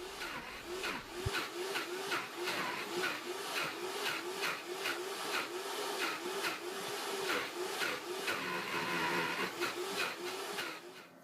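A Vitamix blender churns rock-hard frozen ingredients into a thick, creamy mix, giving a steady motor roar with rapid rhythmic pulsing thuds throughout, fairly close and with no talk.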